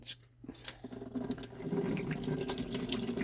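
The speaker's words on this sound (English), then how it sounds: "we'll pour the water out and see how dirty it is" Dirty water pours out of a rock tumbler barrel after burnishing banded iron jasper, splashing steadily into a sink after a brief quiet start, close and fairly soft.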